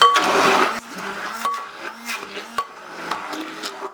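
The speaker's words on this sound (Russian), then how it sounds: "И сейчас все хорошо смешиваем погружным блендером." An immersion blender churns a cottage cheese filling in uneven bursts, its whirring rising and dropping with short pauses and bumps against the container, close and moderately loud, with no talking.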